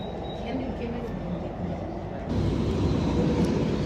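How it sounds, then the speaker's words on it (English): A city tram running along the street makes a steady, low rumbling hum close by, growing louder and rougher partway through. "that's the tram which I was in."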